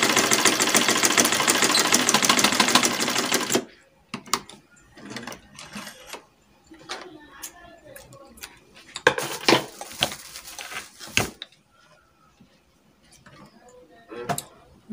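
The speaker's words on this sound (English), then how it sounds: "I'll turn to the wrong side of the dress and I'll stitch it up." A sewing machine stitches a lab coat, running in a loud, steady whir for a few seconds before it stops. Fabric handling, clicks and light rustling follow.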